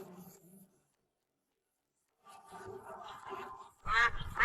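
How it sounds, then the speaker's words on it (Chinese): Half-grown domestic ducks of a brown mallard-type breed quack in a short burst of calls after a silent gap, with a louder harsh flurry at the end. "鸭子，半大的麻鸭。"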